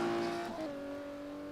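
A classic Porsche Cup race car in a racing simulator, thrown from side to side like a drift car. A loud engine note drops in pitch as it slides, then settles into a steady, fading drone with tire noise and no voices.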